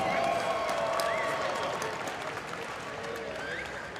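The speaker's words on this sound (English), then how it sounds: "how about a round of applause for the 2 young men starting the night for us?" Steady applause from a crowd at a combat sports fight night, loud and continuous, fading slightly toward the end, with faint voices mixed in.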